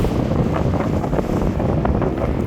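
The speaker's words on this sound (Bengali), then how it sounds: "সেই সিরিজের আরেকটা লঞ্চ যাচ্ছে" A passenger launch passes on a river at night, heard from the deck of another launch as a continuous low engine rumble and rushing water, with heavy wind buffeting the microphone throughout.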